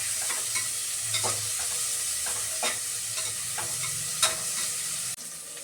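Ingredients for rice bath frying until brown in a pan: a steady close sizzle with occasional stirring scrapes and clicks, continuous and fairly loud with no talking.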